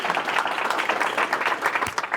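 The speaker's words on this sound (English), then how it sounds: "let's give a big round of applause" A room full of people at a business school talk give a big round of applause, steady dense clapping throughout.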